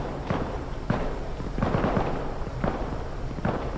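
Video game gunfire from a light machine gun battle, heard as rapid crackling bursts of shots repeating in clusters over a constant noisy din, fairly distant and even in loudness.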